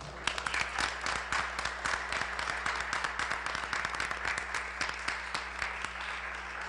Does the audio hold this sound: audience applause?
yes